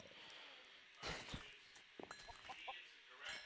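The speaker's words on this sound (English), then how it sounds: "I found many chickens." Chickens cluck in the Minecraft video game during a survival match: faint, scattered clucks with a few soft thumps, like footsteps, over a quiet, steady background.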